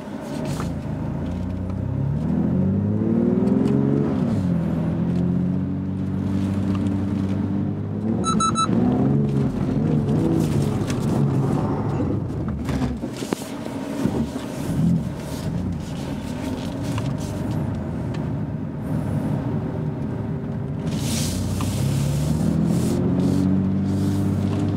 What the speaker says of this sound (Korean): 드리프트 들어가시겠습니다